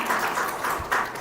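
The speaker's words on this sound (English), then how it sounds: "so clap for them" Audience applauding hackathon participants at a Society of Women Engineers fall kickoff meeting, steady moderate clapping from a room of people filling the moment with no talk.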